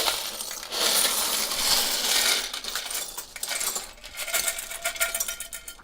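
Small plastic Lego pieces, including a lightsaber, a candle and a Technic spacer, dropping and clinking together in a continuous rattling cascade, close and fairly loud, with scattered sharper ticks toward the end.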